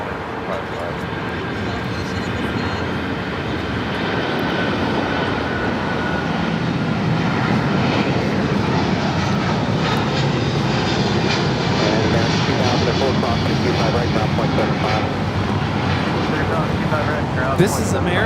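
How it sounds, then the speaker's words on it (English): American Airlines Boeing 777-200ER jet taking off from Los Angeles LAX toward London Heathrow, a broad building engine roar that swells and holds loud across the whole stretch, with radio chatter and talk faintly underneath. "138 taking off to London Heathrow on the 777-200 ER"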